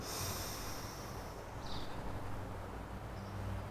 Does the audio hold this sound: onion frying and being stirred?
no